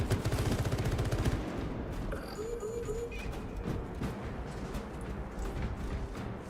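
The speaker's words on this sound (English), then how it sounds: "the plasma launcher turret is crazy." A plasma launcher turret fires in the video game Space Marine 2, giving rapid bursts of crackling, booming area blasts with fizzing energy tones, loudest at first and then settling into a busier, lower-level barrage.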